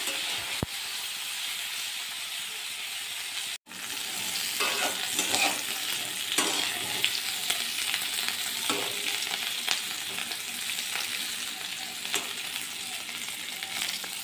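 Cauliflower and potato pieces frying in a pan with turmeric, a continuous loud hissing sizzle with stirring scrapes and a brief interruption early on.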